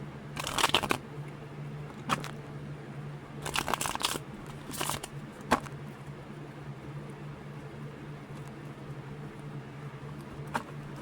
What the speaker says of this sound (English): These tarot cards.